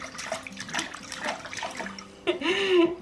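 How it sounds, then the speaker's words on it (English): A toy drops into bath water with a splash near the end, following soft nearby splashing and running water while someone talks to a small child. "Oh, big splash."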